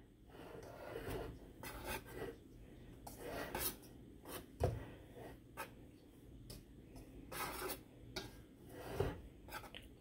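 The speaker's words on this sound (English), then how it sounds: "just gonna whisk that together" A whisk stirs flour and other dry ingredients in a bowl for eggnog cookies, making quiet, close, scratchy strokes in short irregular bursts.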